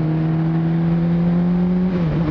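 A 650F sport motorcycle with touring plates runs in Québec, its engine holding a loud, steady droning hum close by that shifts slightly near the end.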